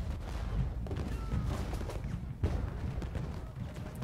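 Steady, distant musket volleys from infantry in Ultimate General Gettysburg form a continuous rumbling crackle, with one slightly sharper report partway through.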